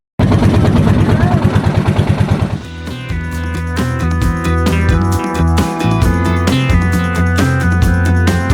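A motor boat's engine chugs loudly in rapid, even pulses as the boat departs at Bholaganj, then gives way to a steady music track.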